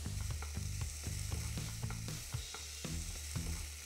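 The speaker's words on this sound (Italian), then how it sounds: "Abbrustolisco lo speck in padella con un giro d'olio." Diced speck browning in a pan with a drizzle of olive oil, a steady close sizzle broken by regular clacking scrapes of a utensil, with no talking.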